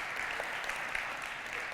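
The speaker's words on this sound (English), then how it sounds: "give a round of applause" An audience at a talk about Empathytech gives a round of applause, a soft, even wash of clapping heard at a distance, continuous and fairly faint.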